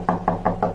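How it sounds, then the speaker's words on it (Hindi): Four steady knocks on a door, evenly spaced and fairly close, with a dull hollow thud to each rap and no voices. "तभी दरवाजे पर दोबारा दस्तक हुई।"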